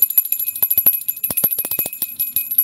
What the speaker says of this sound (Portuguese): Olha o sininho.